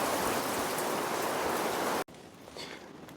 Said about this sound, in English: it started raining on me here